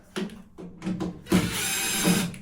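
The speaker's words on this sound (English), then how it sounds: "Might need a screwdriver on that one." A screwdriver, apparently powered, works screws out of a fan inside a noisy domestic central heating boiler during a DIY fan replacement, giving a few short whirring bursts followed by a longer, steady, loud drive, close up with no talking.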